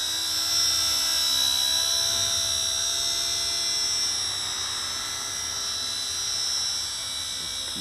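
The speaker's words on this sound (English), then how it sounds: "So it's noisy, and it takes quite a bit of throttle to get up off the ground" Heli-Max Black Hawk RC helicopter hovering outdoors at fairly high throttle, its rotor and motor giving a steady, loud, high-pitched whine with a constant buzzing drone throughout.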